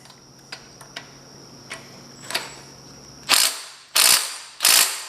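Torque wrench ratcheting while tightening head bolts on a 1973 Kohler K301 engine of a garden tractor: three loud, close bursts of clicking near the end, after a few faint ticks.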